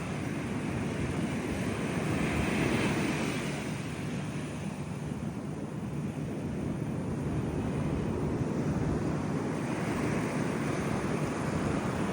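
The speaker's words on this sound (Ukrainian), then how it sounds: "шум волни теж хочеться послухати" Ocean waves wash onto a beach in Bali, a steady, broad rushing roar with gentle swells in loudness, heard alone with wind buffeting the microphone.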